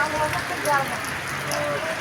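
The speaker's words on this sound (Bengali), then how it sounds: "একেবারেই ঝমঝমে বৃষ্টি হয়ে যাচ্ছে দেখতে পাচ্ছি ঝমঝমে বৃষ্টি হয়ে যাচ্ছে" Unseasonal heavy rain pours steadily at a crossroads in Kalipuri, with a dense hiss, while a voice speaks faintly beneath the downpour.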